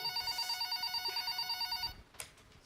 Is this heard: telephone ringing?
yes